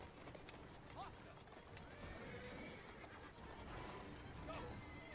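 Horses in Assassin's Creed Syndicate neighing and galloping as they pull a carriage: rapid hooves and a couple of whinnies over dense rumble and rattling, with voices calling out now and then.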